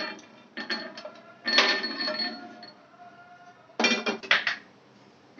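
Fried almonds scooped from a pan into a bowl, with clinking and scraping of a metal spoon against cookware in a few short bursts, close and moderately loud.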